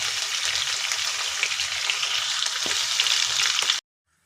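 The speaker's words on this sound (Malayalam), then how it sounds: "ഒരു മൂന്ന് സവാള നമുക്ക് ഇതിനകത്തേക്കിട്ടൊന്ന് ഫ്രൈ ചെയ്ത് മാറ്റണം" Onions frying in oil inside a rice cooker for chicken dum biryani, a steady loud hiss of sizzling with faint ticks, cutting off sharply into silence near the end.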